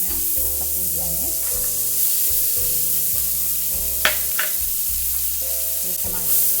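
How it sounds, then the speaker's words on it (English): Onion sautéing in hot vegan margarine in a pan, a steady close sizzle with stirring scrapes and a couple of sharp utensil clicks, while background music plays throughout. "We're going to saute this until nice and golden brown."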